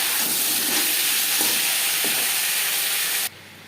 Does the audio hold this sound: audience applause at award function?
no